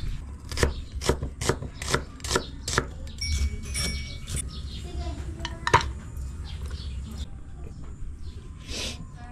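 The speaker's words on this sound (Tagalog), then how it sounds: "mag-slice na tayo ng sibuyas" A knife slices an onion on a board at a public market, giving a quick run of about seven sharp, evenly spaced chops, then looser cutting sounds and handling noise with some talk.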